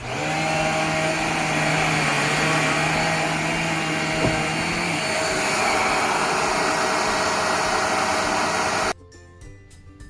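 A Riccar R25 upright vacuum cleaner runs with a steady, loud motor whine and airflow roar for about nine seconds, then cuts off abruptly, leaving only faint room noise.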